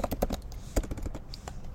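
Fingers tap on a computer keyboard in quick, uneven bursts of close, crisp keystrokes, with short pauses between clusters.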